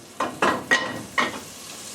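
Butter melting into hot peanut oil in a pan, giving several short bursts of sizzling crackle that flare and fade over a soft frying hiss.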